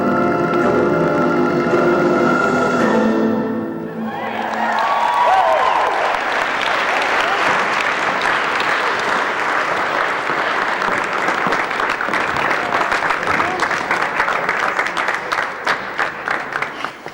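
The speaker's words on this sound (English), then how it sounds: "Applause, applause, applause." Applause for Riverdance dancers taking their bows: after a few seconds of music fades, a dense, loud wall of clapping from a large crowd fills the rest, steady and sustained without speech.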